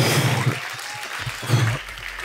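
Audience applause with scattered cheering fills the room after the final battle of a beatbox championship, a steady wash of clapping with a couple of louder swells.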